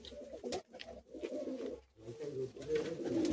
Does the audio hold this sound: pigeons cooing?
yes